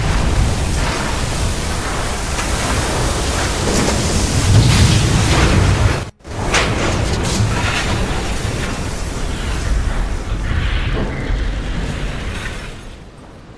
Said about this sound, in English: 40 seconds to impact. Where's that torpedo?